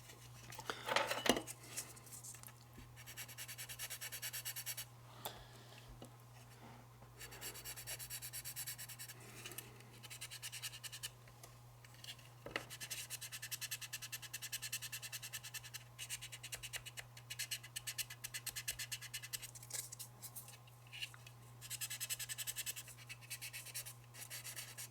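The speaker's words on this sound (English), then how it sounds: "Now we can sand it all." Sandpaper rubs steadily over a model railroad build with a Cairo port terminal and F3 locomotive units, giving a close, continuous scratchy scraping that runs for the whole stretch with brief pauses and no talking.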